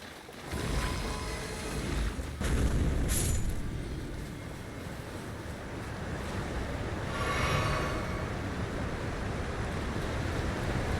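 A waterfall by the Cerulean Coast in Elden Ring: Shadow of the Erdtree rushes continuously as a broad, steady roar, with a couple of brief brighter splashes over it and no talk.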